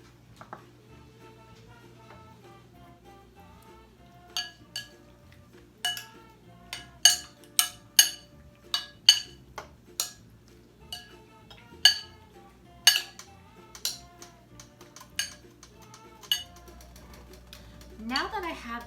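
Soy sauce, minced ginger and salt being mixed in a dish with a utensil, heard as a run of sharp clinks and taps against the bowl, close, irregular and rising in pace, with faint background hum.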